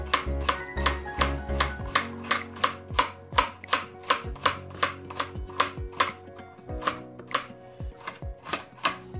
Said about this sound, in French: je coupe des petits morceaux tout fins